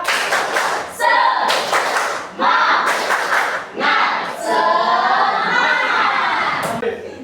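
A class of Indonesian schoolchildren performs a patterned spirit clap, loud bursts of synchronized clapping mixed with shouted group voices, repeated in short sections with brief pauses.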